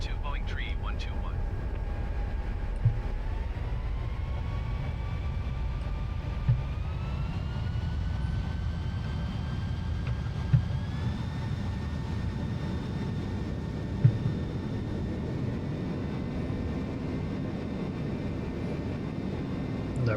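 C-17 Globemaster jet engines spool up for takeoff in Flight Simulator 2020, a steady roar with whining tones stepping higher in pitch, and a voice talks quietly over it.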